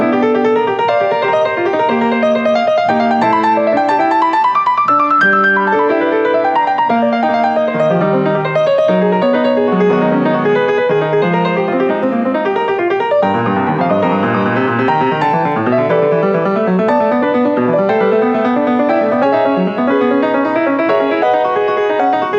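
Computer-generated music built from features of J.S. Bach's music and filtered through jazz plays continuously, with dense, busy melodic lines weaving at a steady loud level and no voices.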